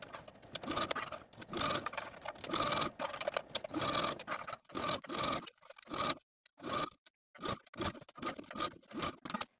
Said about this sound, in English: take it back to the machine and edge stitch close to that inner folded edge of the bias tape all the way around